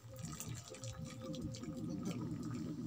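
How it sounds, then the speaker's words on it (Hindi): Water from cooked ridge gourd pours through a kitchen sieve into a vessel, a steady trickling and dripping stream running throughout at close range, with no talk. "तो इसको हम छान कर एक बर्तन में निकाल लेते हैं।"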